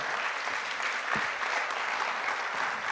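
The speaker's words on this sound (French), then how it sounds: "On peut vous applaudir pour vos présentations" Audience applause at a French conference on hydrogen mobility, sustained even clapping from a crowd for five presenters, steady and fairly close throughout.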